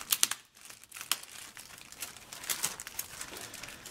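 A plastic bag of model kit parts being opened gives faint, close crinkles and crackles in short, uneven bursts.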